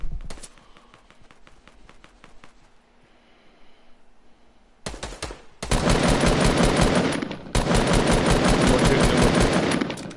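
Rapid automatic gunfire in Fortnite at Loot Lake, starting with sparse distant shots, then loud, sustained close bursts of machine-gun fire with a brief pause before continuing.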